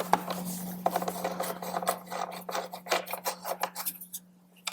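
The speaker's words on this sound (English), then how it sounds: "put the screw back in at the rear of the storage pocket" A screw being driven back into the rear of a Harley-Davidson storage pocket: close, faint scraping and rasping clicks of metal threads and tool under a steady low electrical hum.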